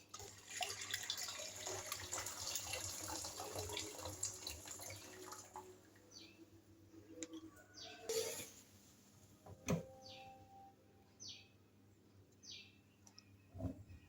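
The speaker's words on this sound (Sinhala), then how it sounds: "ඉතින් දැන් අපි මේ බොයිල් කරගත්ත වතුර ටික මේකට දාන්න තමයි යන්නේ." Boiled water pouring and splashing into a vessel while preparing Korean rice cakes (tteokbokki), a steady broadband stream over the first several seconds, then scattered clinks and brief splashes close by.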